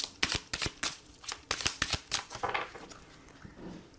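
Oracle cards shuffled and cut for a card reading, a quick run of sharp riffling snaps and slaps, close and fairly loud, easing into softer rustling toward the end.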